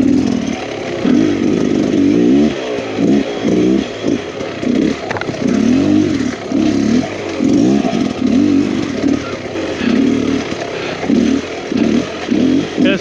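A Beta Xtrainer 300 two-stroke dirt bike works through tight wooded trails, its engine revving up and dropping in rapid repeated bursts, loud and close, with no voices.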